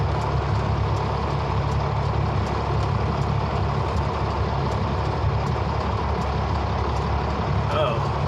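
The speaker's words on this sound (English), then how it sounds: "This truck's going real slow." A truck rolls slowly along and pulls in, its engine giving a steady, loud, close rumble with constant road and drivetrain noise throughout and no break in the drone.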